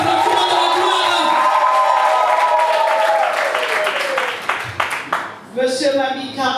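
Wedding guests at a civil ceremony and dowry celebration applaud and cheer, a loud crowd of clapping with whoops and voices mixed in, briefly thinning toward the end.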